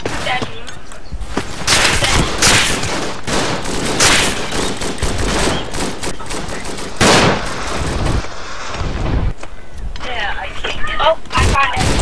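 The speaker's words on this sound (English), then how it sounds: "We all get mowed down by one MG." A single machine gun mows down attackers in the First World War shooter Verdun, firing loud, rattling bursts again and again while players talk over the shooting.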